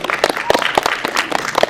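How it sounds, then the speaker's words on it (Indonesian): Audience applause at a press conference launching the official poster for a horror film at a cinema, with dense, steady clapping from a room of people throughout and a voice faintly in the mix. "tepuk tangan untuk siang hari ini teman-teman."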